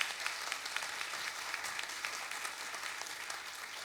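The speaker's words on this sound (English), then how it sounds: "A round of applause, please, for Ian Hickie." Audience at a health policy talk giving a round of applause, dense, even clapping that carries on steadily throughout at a moderate distance.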